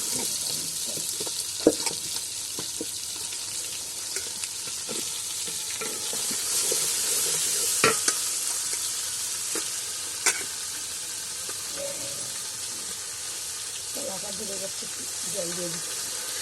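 Spiced country chicken, rubbed with chilli and turmeric, frying in a hot pan: a continuous bright sizzle with scattered utensil clinks and scrapes, and a voice talking briefly near the end.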